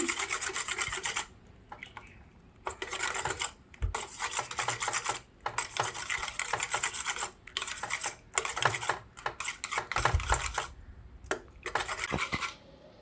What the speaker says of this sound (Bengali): এবার ভালো করে মিশিয়ে নেব খুব ভালো করে মেশাবেন